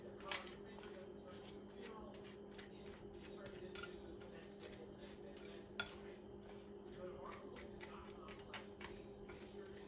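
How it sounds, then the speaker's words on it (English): Spoon clinking and scraping in a bowl while stirring a brown sugar filling for homemade cinnamon rolls, a steady run of light metallic taps and scrapes over a low hum, with speech nearby. "we're just going to mix it till it's well blended"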